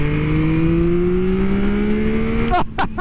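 A 2023 Yamaha MT-09 SP's three-cylinder engine drones loud and close with a steady buzzing tone that climbs slowly in pitch, then cuts off abruptly into a few quick blips of the throttle near the end.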